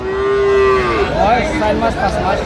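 A Sahiwal calf or young bull lets out one drawn-out moo at a livestock market in Dinajpur, loud and close, followed by shorter lowing sounds against a faint market background.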